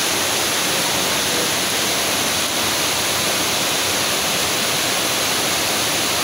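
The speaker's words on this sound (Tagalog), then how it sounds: "Yan po Busay Falls." Busay Falls waterfall roaring in a steady, dense broadband rush close by, continuous and unbroken throughout with no voices.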